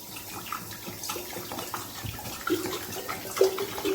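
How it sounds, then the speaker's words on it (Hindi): Cold water poured into a jug of Rooh Afza sherbet, a soft, steady close splashing and trickling stream, fairly quiet, with no talking. "अब इसमें हम ठंडा पानी डाल देंगे"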